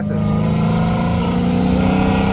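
A Dodge Challenger Hellcat Redeye engine revs up loudly nearby, a deep rising roar with strong throaty harmonics as it accelerates.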